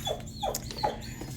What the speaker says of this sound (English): He's a border collie, and he's wanting into the room where I'm at.